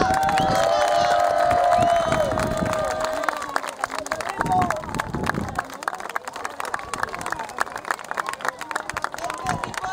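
Crowd applause for the third-place finisher at the Eurochallenge 2013 podium and medal ceremony, with dense, steady clapping rising after an amplified voice, mixed with distant crowd hubbub.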